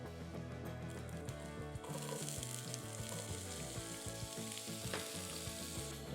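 Onions sizzle loudly in hot extra virgin olive oil in a pan, a steady close frying hiss that grows brighter and fuller after the first couple of seconds, with occasional stirring.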